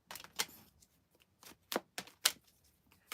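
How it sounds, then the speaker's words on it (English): A deck of cards is shuffled in a quiet room, giving a handful of short, crisp riffling bursts and snaps spaced irregularly across a few seconds, close and fairly soft. "Let me just give the cards a good shuffle here."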